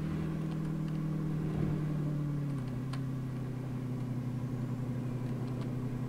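A fast car's engine in Euro Truck Simulator 2 drones at a steady pitch, stepping down slightly partway through as if shifting, with a continuous road rumble and no talking.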